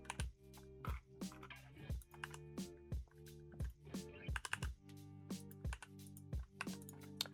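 Keyboard keys pressed for Blender shortcuts while modelling, a series of distinct clicks and taps spaced irregularly over several seconds, close and fairly quiet, with no talk.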